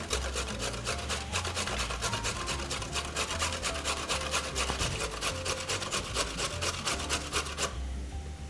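A carrot is rubbed against a hand grater in quick, regular rasping strokes, a rhythmic scraping repeated close up many times before it stops abruptly, with no voices.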